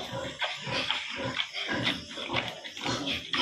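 Pigs feeding on fermented Madre de Agua leaf feed at a backyard pig pen, with a steady run of wet chomping, snuffling and grunting across the whole stretch, close and fairly loud with no talk.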